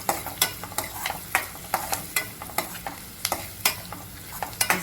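Roasted peanuts and roasted chana dal are being dry-toasted in a pan, with a spoon scraping and stirring in regular sharp clicks and rattles over a faint background hiss, close and moderately loud with no talking.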